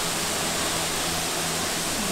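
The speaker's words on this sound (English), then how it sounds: "I made it really close to the waterfall. You can probably hear it." A waterfall in Galloway Forest Park, heard from very close, gives a loud, unbroken rushing hiss of falling water that stays even from start to finish.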